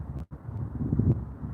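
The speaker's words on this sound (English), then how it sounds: "It wasn't windy when we started, but it's now." Wind gusting over a garden during outdoor planting, rumbling buffets on the microphone with a brief dropout, steady low noise throughout.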